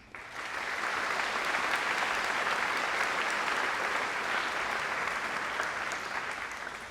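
Sustained applause from a large audience at a university graduation ceremony as a master's graduate with honours is recognised, a dense, steady roar of clapping that holds for several seconds before easing slightly at the end.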